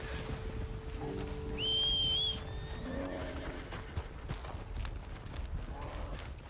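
Horse in the Red Dead Redemption 2 video game whinnies loudly, then its hooves clip-clop steadily beneath game ambience, with no talk over it.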